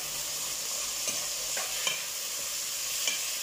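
Pancit canton ingredients sauté in a hot pan, giving a continuous bright sizzle broken by a few soft scrapes and clacks of a stirring utensil.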